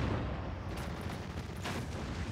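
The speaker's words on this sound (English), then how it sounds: "And the artillery is still falling over here." Artillery shells landing in the video game Steel Division 2, a quiet, distant rolling barrage of muffled booms and crackling gunfire.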